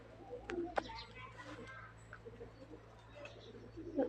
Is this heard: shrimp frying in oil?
no